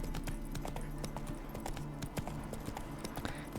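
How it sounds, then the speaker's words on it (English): A horse's hooves clip-clop in the Witcher 3 video game, a fast, steady trotting rhythm heard up close and continuously throughout. "Spooking my horse."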